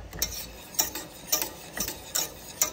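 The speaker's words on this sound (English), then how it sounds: "I'm just kind of stirring these clumps of brown sugar." A whisk stirs clumps of brown sugar in a ham glaze, making soft, regular scraping taps against the bowl about twice a second, close and quiet with no talking.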